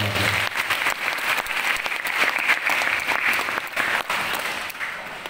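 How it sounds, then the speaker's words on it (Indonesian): Sustained applause from an audience of parents and students at a school gathering on Belitung island, steady and dense clapping throughout with a faint murmur. "Tepuk tangan buat orang tua."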